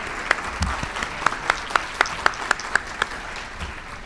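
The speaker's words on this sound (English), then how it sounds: "Let's give them a round of applause so they can hear it." Audience applauds campus police officers at a state-of-the-campus address, steady moderate clapping with a few sharp, regularly spaced individual claps standing out near the front, and no talking.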